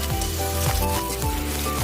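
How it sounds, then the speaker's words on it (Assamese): Onions and a green chilli frying in hot oil in a wok for an Assamese duck dry fry, with a steady, close sizzle and a few stirring scrapes repeating through it. "কেৰাহীত তেল গৰম কৰি মই এতিয়া পিঁয়াজখিনি দি লৈছোঁ, লগতে কেঁচা জলকীয়া এটা দি মই পিঁয়াজখিনি ৰঙচুৱা হোৱালৈকে ভালদৰে ভাজি ল'ম।"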